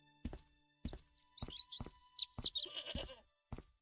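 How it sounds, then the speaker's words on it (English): A goat in the Broken Sword point-and-click game bleats several times amid dull thunks and clatter. The bleats are loud and close, repeating in short bursts with no talk. "Oh, you stupid goat."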